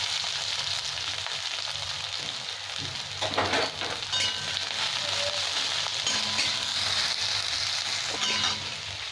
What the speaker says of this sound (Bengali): তেলটা আমার গরম হয়ে গেছে, এবার একটা পেঁয়াজ কেটে রেখেছি, এটা দিয়ে দেবো